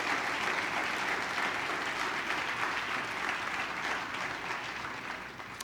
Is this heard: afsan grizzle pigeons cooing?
no